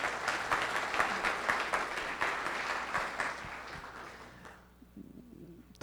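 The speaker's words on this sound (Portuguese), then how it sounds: "Senhoras e senhores, uma salva de palmas" An audience at a lecture on reverse logistics in São Paulo applauding a speaker, dense steady clapping from a crowd that fades out over a few seconds.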